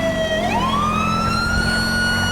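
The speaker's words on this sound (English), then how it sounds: "they're not listening to the lights and sirens" A loud, close sheriff's patrol car siren in the video game GTA 5, wailing with its pitch sweeping upward and holding steady over an engine rumble.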